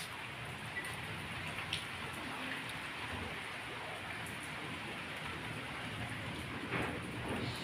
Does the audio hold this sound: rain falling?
yes